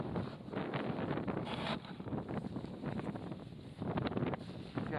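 Strong wind buffets a microphone at a winter wild camp on High Street, the Roman road fell ridge, beside a North Face Mountain 25 tent, roaring steadily and loudly throughout with gusting surges.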